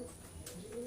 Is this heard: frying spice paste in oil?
no